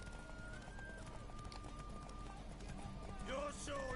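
In The Witcher 3 game, a horse's hooves clatter at a run under sustained music and talking voices, with a short neigh near the end.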